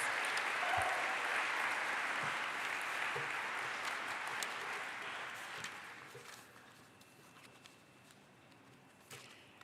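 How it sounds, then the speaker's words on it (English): A graduation audience at a physical therapy awards ceremony claps for student volunteers, a moderately distant round of applause that starts full and gradually thins and fades over the last few seconds, leaving scattered claps. "Let's give them all a big round of applause."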